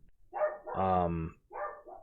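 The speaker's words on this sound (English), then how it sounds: "I'm sorry for all the dogs barking." Dogs bark nearby in a quick burst of several sharp, loud barks with a longer middle bark, heard without any talking.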